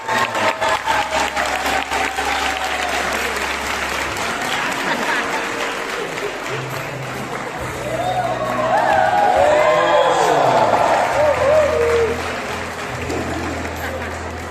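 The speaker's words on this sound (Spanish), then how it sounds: "Fuerte el aplauso." Sustained applause from a school graduation audience honoring teachers, loud and continuous for the full stretch, swelling with scattered cheers in the middle, with some voices mixed in.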